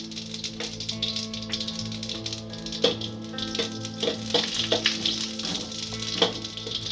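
Dried red chillies and mustard seeds fry in hot oil with a busy sizzling hiss, sharp crackles and occasional metallic clinks, close and steady throughout.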